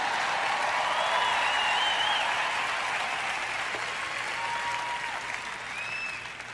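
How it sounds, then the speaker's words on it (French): A church congregation applauds during a sermon, with dense, sustained clapping filling the hall evenly for several seconds, occasional faint whoops rising over it, and the applause slowly easing toward the end. "vous feriez donc aussi bien de m'applaudir"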